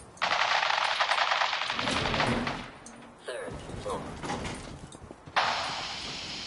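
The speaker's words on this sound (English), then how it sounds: "Men, open fire!" Rapid machine gun fire in Fallout 4 rattles in long loud bursts during a firefight, with a sliding mechanical sound and voices in between.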